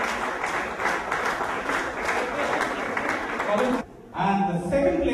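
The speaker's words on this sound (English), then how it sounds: "I'd like you to applaud for our third place winner, Colin Gonzalez." An audience at a Konkani singing contest in Goa applauds the third place winner, a steady wash of many clapping hands that cuts off briefly near the end and then resumes along with voices.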